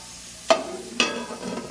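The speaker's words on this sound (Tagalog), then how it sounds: "Parang ikukuhan mo lang, ipiprito mo ng konti." Food frying in a pan with a little cooking oil, heard as a steady sizzle with two sharp bursts as pieces are stirred or turned, fairly close and without talk.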